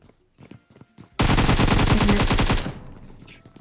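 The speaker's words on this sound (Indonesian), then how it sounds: "Kena shotgun lo." Rapid automatic gunfire in the mobile battle-royale game PUBG Mobile, a dense, loud burst of about a dozen evenly spaced shots lasting over a second, with scattered game sounds before and after.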